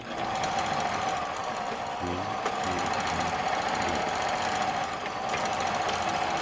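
A Lion L372 sewing machine runs continuously after repair, its needle mechanism making a fast, steady mechanical knocking and whirring close by, with brief changes in rhythm as stitch patterns are tested.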